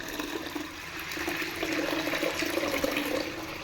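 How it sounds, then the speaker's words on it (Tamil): Water is poured off the top of soaked idli batter ingredients, pouring and splashing steadily for several seconds, a continuous rushing flow close by with no talking. "அந்த மேலே இருக்கிற தண்ணி தான் ஊற்றணும்"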